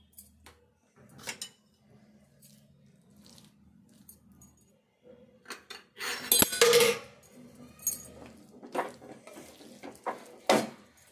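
A puffed gram laddu mixture is stirred by hand in hot, dark jaggery syrup in a pot, giving sporadic soft scraping and clinking noises, with a brief louder burst of utensil clatter partway through.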